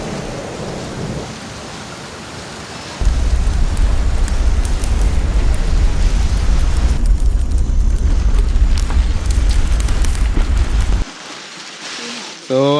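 Heavy rain pours down during a hike toward Simba Falls in Lalitpur, Nepal, a loud steady roar that begins suddenly after a quieter opening and cuts off near the end, with a brief voice at the close.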